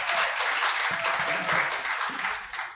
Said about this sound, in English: you got applause this time